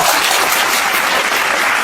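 Applause from a school audience for a quiz winner, a dense, steady burst of clapping with no voices, loud and close throughout.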